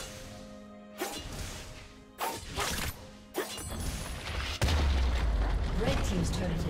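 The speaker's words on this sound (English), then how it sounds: "Red team's turret has been destroyed." A turret is destroyed in the League of Legends video game: a few sharp whooshing hits and thwacks build up to a heavy crashing blast near the end, with game sound effects layered around them.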